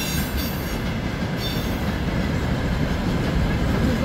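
A freight train passing on rails, a loud, continuous rumble with rolling wheel noise and faint metallic squeal, close by and steady for the whole stretch.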